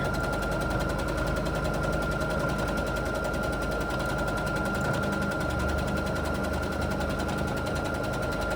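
A sewing machine stitching free motion quilting through fabric runs steadily and close, its rapid needle rattle continuous and even throughout with no pauses and no voices.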